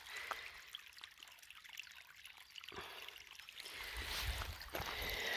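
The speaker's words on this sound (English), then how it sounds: "the water's coming down there and coming through there" Water trickles and pours down over rocks outdoors near a fort in the hills, a soft, steady wash that grows louder and fuller toward the end.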